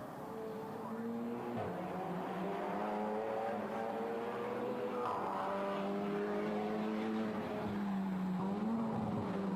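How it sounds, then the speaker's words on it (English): Audi race car engine at the Pikes Peak hill climb, a distant buzzing engine note that rises and falls through gear changes under a faint commentator's voice. "That sounds very good, that little Audi, doesn't it?"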